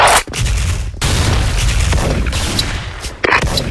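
Heavy booms and rattling bursts of gunfire in the shooter game Soldier Front, a loud, dense barrage with brief gaps, including a grenade blast.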